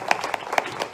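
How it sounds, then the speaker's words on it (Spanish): A church congregation claps for Valentina during a service, a brief close burst of scattered hand claps with a few sharper individual smacks. "un aplauso para Valentina"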